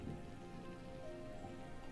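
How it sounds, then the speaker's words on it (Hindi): Steady rain falls on a flimsy hut during a cold, torrential downpour, a continuous soft patter close by with no talk over it. "फिर बारिश शुरू हो गई।"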